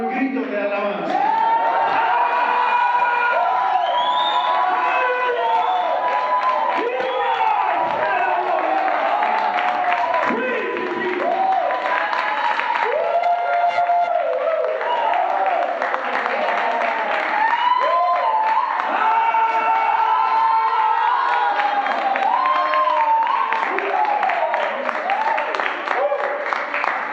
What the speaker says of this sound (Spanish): give the Lord a good shout of praise